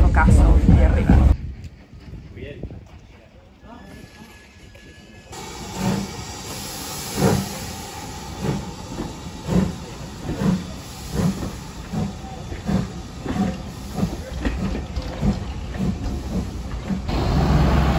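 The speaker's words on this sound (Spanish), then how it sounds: "Así se siente viajar en un tren de vapor." A steam train ride through Dorset, with rhythmic rail clatter and hissing steam carried along steadily under talk, after a short quieter stretch near the start.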